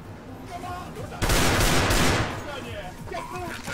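Gunfire in Counter-Strike, with a loud burst of rapid shots lasting about a second in the middle and lighter game noise around it, while a voice talks over the match.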